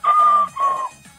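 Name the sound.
chicken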